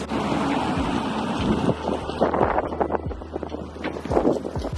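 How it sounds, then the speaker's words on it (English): Strong wind blows outdoors, buffeting the microphone with a continuous loud, rough rumble that swells and gusts throughout, with no talking. "The wind is insane."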